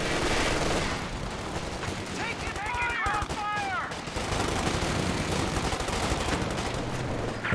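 Sustained machine gun fire in Company of Heroes 2 pins down an infantry squad, with steady rapid bursts layered over battle noise and a brief whistling sweep in the middle; a voice talks over the action.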